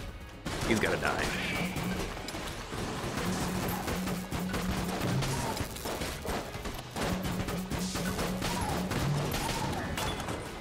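Explosions and gunfire bursts in the roguelike shooter Enter the Gungeon, dense and loud throughout with game music and rapid impacts, under ongoing talk.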